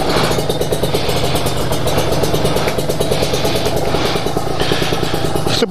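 A Kawasaki Ninja motorcycle engine running just after start-up, a loud, close, steady rapid mechanical chug with a faint clattering rhythm and no talk over it.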